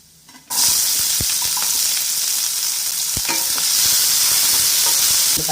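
Chopped onions drop into hot oil with chana dal and urad dal for wheat rava upma, setting off a sudden loud sizzle that keeps going strong, with a few stirring scrapes close by.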